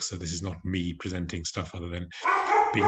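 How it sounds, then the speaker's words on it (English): Pet dog barking and yipping repeatedly in a home, close and loud, partly mixed with someone talking during an online conference presentation. "Apologies for my dog."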